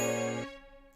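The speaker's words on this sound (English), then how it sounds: "That's gonna be played by the glockenspiel." A glockenspiel plays a short melody phrase in a studio, with bright ringing metallic tones struck together and a clear decaying tail under a second, loud and close with no voices.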